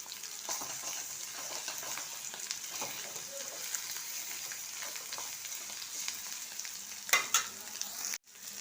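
Soybeans fry in hot oil with onion and ginger garlic paste, giving a continuous close sizzle with soft stirring scrapes throughout and a couple of sharper clatters near the end, no speech.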